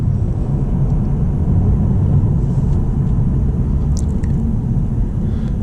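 A 2022 Lexus RC350 F Sport driving on the road, heard from inside as a steady, smooth low rumble of engine and road noise with no talking.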